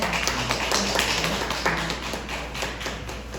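A congregation at a church gathering applauds to celebrate Dongju and Yeonju. The clapping is dense and continuous, a steady patter from many hands that carries on without talk.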